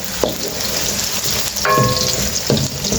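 Onions sizzle steadily in oil in a pot as they brown lightly for a vegetable biryani, with a spoon stirring through them and giving a few soft scrapes and knocks over the constant frying hiss.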